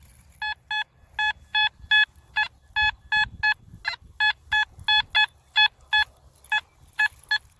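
A metal detector on a five-tone setting chirps a rapid series of short, evenly spaced electronic beeps, about twenty pulses at slightly varying pitches, loud and close, with faint handling rustle underneath.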